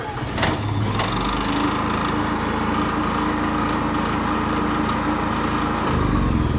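A Honda EU7000i inverter generator, just repaired after a fuel filter fix, runs with a steady, loud engine drone that holds throughout, with a brief surge near the start and end.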